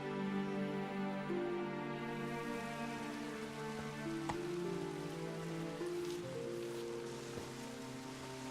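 Steady rainfall in The Witcher 3: Wild Hunt patters on a surface, backed by a sustained tonal drone and a few soft knocks; no voices.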